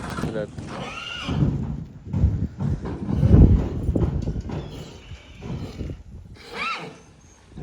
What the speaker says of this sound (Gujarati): આ ઘોડી અહીંયા આવી છે હમણાં હાચવવા